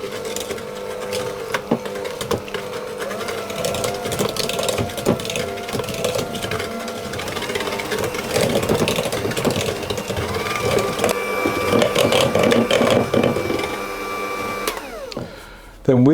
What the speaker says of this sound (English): we need to add our eggs in one at a time, and mix those to combine.